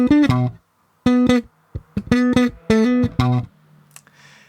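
Guitar fill played as a demonstration, with a quick run of distinct, clean plucked notes in short bursts separated by brief gaps, close and clear, then fading into a low sustained tone and faint hiss.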